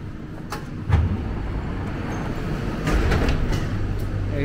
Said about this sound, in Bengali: এই যে ট্রেন এসে পড়েছে অলরেডি